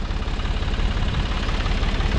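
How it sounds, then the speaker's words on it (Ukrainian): A steady, low diesel engine rumble idling close by, with a constant throbbing pulse and no pauses. "беру зараз трактор"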